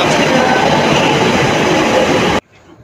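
A Kolkata Metro train rumbles loudly along the track on a ride from Baranagar toward Rabindra Sadan, with a steady dense roar and clatter that cuts off abruptly near the end into quiet.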